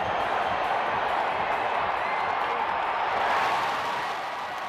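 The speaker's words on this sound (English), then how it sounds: "And a great crowd reaction." A baseball stadium crowd in Colorado roaring after a Dexter Fowler home run, a dense sustained wash of cheering and applause from a large crowd that holds steady and fades slightly at the end.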